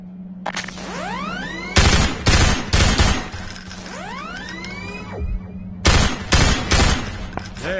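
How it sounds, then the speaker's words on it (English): Rapid gunfire in Half-Life 2: Episode Two shooting a device, several loud crackling bursts with ringing metallic echoes and a low steady hum beneath, no speech. "Now, take out the firearm of your choice and shoot the device."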